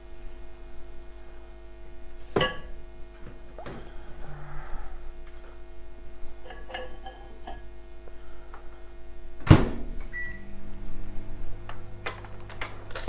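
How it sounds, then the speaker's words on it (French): A kitchen microwave oven runs for about 30 seconds while warming an ingredient for tiramisu, giving a steady low electrical hum with a couple of sharp clicks and faint ticking across the run. "Ça va aller dans le micro-ondes"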